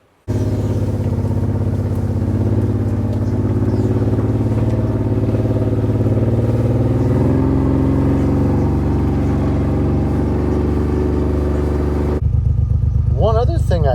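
A John Deere Gator utility vehicle fitted with a rear window, engine and exhaust under the bed, drives steadily with a loud, continuous engine drone that holds for most of the clip before shifting tone near the end.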